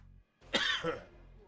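One person coughs once, close and fairly soft, a single harsh throat-clearing burst after a brief silence.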